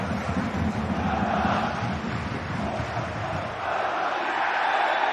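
Stadium crowd noise at a Bundesliga 2 football match between Eintracht Braunschweig and Saarbrücken in Braunschweig, a steady dense roar of many voices with no clear lulls, loud and continuous throughout.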